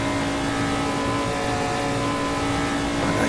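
Formula 5000 race car engine in the Assetto Corsa racing game, a loud steady drone held at high revs with a strong tonal hum, running alone with no talk.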